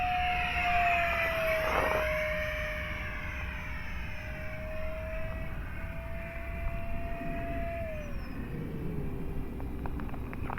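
A Habu 70mm electric ducted-fan RC jet running on a 3S battery at full throttle gives a steady high whine that shifts pitch as it passes, with a Doppler-like drop near the end, continuous and fairly loud outdoors.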